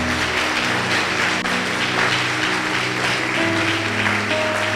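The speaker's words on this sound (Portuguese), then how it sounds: "Dê uma salva de palmas para Jesus." Church congregation clapping for Jesus during a worship service, a continuous wash of claps blended with sustained keyboard or organ chords underneath.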